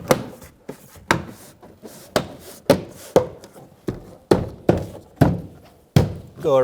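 Sharp thunks and knocks as a plastic interior door panel on a 2005-2015 Toyota Tacoma truck is dropped onto the top sill and pressed into place, about a dozen distinct impacts at irregular intervals, close and loud with no talk.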